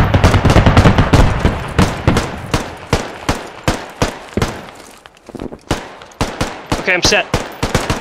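Suppressive machine gun fire in the Squad shooter, loud rapid bursts with short gaps between them that thin out, then pick up again. A voice speaks briefly over the shooting.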